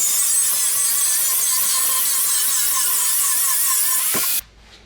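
A power saw cuts through 1/8 inch steel checker plate with a loud, sustained, high-pitched grinding whine that stops abruptly near the end.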